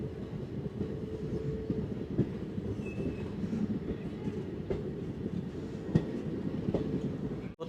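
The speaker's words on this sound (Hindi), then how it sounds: "ट्रेन अभी यहाँ से निकल चुकी है डेरा बाबा नानक से" Passenger train pulling out of Dera Baba Nanak station in Punjab, India, heard from inside an empty carriage: a steady low rumble of the moving coach with occasional sharp rail clicks and a brief faint wheel squeal, no talking.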